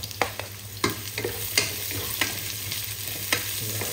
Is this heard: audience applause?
no